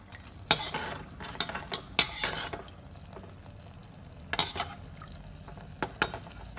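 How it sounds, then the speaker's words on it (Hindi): Anarsa sweets fry in oil in a pan, with a soft sizzle beneath sharp metallic clinks and scrapes of a utensil at irregular intervals. "तो देखिए ये इस तरह से हमें फ्राई करना चाहिए।"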